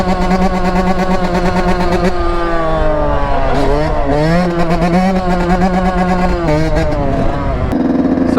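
A 250 or 450 quad ATV engine revs loudly and close, pitch climbing, dipping and swerving through repeated throttle blips, steady and unbroken throughout.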